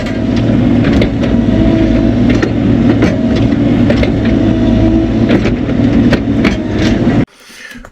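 A mini excavator works to compact soil on a pond dam, its engine running loud and steady close by with a dense, rumbling drone. The engine noise cuts off abruptly near the end, leaving a quieter, fainter hum.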